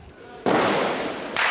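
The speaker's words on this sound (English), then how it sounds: "Bethlehem, the birthplace of Jesus, also echoed to the sound of gunfire." Gunfire echoes in Bethlehem during unrest in 2000: after a quiet opening, a loud, sustained burst of cracking noise begins, then a second burst starts just before the end.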